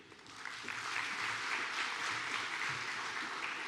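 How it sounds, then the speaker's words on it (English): Sustained audience applause at a diaspora conference in a large hall, a distant, even wash of many people clapping that swells slightly after the first half second and then holds steady. "you could just keep the applause going for all the sponsors"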